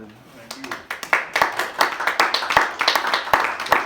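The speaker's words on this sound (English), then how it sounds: "We need to record the applause for the end of every class" A small group applauds at the end of a class, scattered hand claps that start sparse and quickly build into brisk, close, uneven clapping lasting a few seconds.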